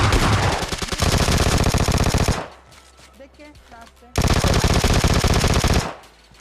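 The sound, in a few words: Uzi and Vector guns firing in video game PUBG Lite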